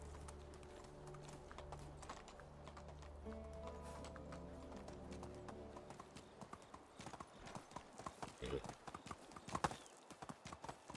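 Horse galloping in the video game Medieval Dynasty: rapid rhythmic hoofbeats, with a few heavier thuds from jumps and landings, over game ambience and music and mixed with player talk.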